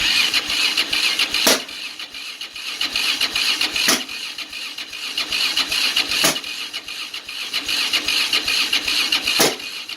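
A Yamaha Raptor 660R ATV engine cranks with a steady whirring drone, broken by sharp bursts roughly every two to three seconds as it tries to catch. No one speaks.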